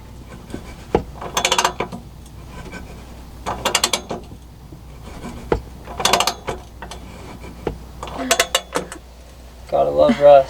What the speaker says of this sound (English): It looks like all we have is just these 2 bolts to unbolt the axle back.